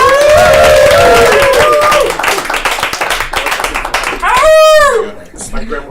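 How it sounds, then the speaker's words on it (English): Audience applause at a live comedy show in a bar, dense clapping and cheering from a crowd that fades after a few seconds, with a loud whoop and voices mixed in. "Give a round of applause for Darren Marshall!"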